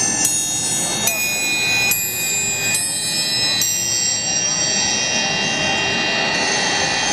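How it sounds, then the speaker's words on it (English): Symphonic triangle struck repeatedly with a large beater, bright sustained metallic ringing with several strikes about a second apart, shimmering overtones hanging throughout over a busy trade-show crowd murmuring in the background. "I got these symphonic triangles. Let's use a bigger beater."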